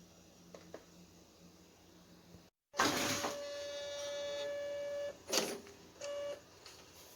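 A Brother QL-800 label printer runs off a sample label, a soft mechanical whir with a sustained motor drone, a brief pause, then a short burst of feed noise and a final motorized pulse, close and fairly quiet.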